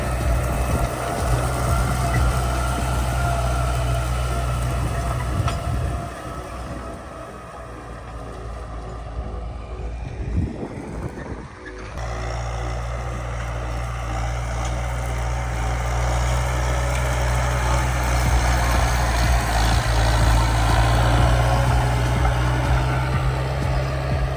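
An Amazone Catros 3001+ disc harrow is pulled across a field behind a tractor, with a steady loud engine drone and rumble that eases briefly in the middle before building again, and no one speaking.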